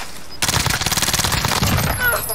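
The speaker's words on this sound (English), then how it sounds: "I'm getting shot from our left hard." Rapid automatic gunfire from a close firefight in Call of Duty Warzone on the Alcatraz Resurgence map, a dense burst of repeated shots starting abruptly and continuing loud throughout.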